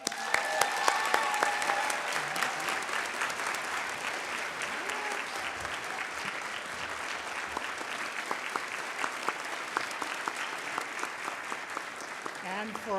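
Audience at a university student leadership awards ceremony applauds an award winner, steady sustained clapping from a sizable crowd with a few louder claps at the start, continuing evenly throughout.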